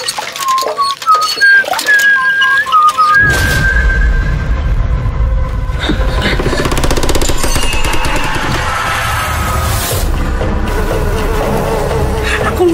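Eerie midnight whistling from an Indonesian horror film, a thin wavering melodic whistle heard alone for a few seconds before a dense, loud buzzing insect-like drone swells in and fills the rest.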